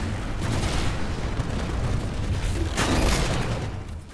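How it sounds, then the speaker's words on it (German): Explosions and gunfire in the Titanfall shooter game on Xbox One, with a dense, rumbling barrage of booms and mechanical clatter that stays loud throughout and swells near the end. "Bombasteffekten wie etwa Explosionen am laufenden Band"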